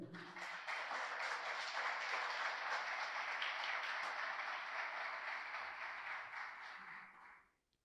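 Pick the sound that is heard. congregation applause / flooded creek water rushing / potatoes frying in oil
congregation applause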